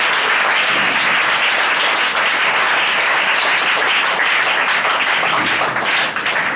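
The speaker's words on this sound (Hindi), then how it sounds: "उस परमेश्वर को ताली बजाकर धन्यवाद करो।" A church congregation claps steadily together to give thanks to God, a dense, sustained wave of applause that fills the room from start to finish.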